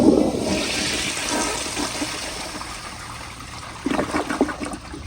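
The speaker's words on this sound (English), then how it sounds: "So here is another flush." A 1974 Crane Santon toilet set to 1.6 gallons flushes up close: a loud rushing gush of water into the bowl that eases into a steady swirling drain, then renewed gurgling siphon bursts toward the end.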